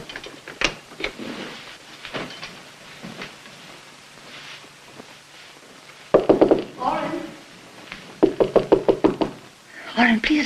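Knocking on a door in an old courtroom drama, a few scattered raps early on, then two louder clustered bursts of rapid knocks near the end, with voices speaking around them.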